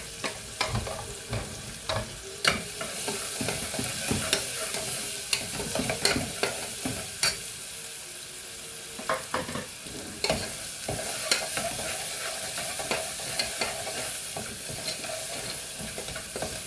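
Ginger, garlic and green chili paste frying in a pan, a steady close sizzle broken by repeated scrapes and knocks of a stirring spoon, with no talking.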